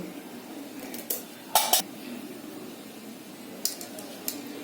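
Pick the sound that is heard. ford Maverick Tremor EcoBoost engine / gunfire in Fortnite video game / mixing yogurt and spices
mixing yogurt and spices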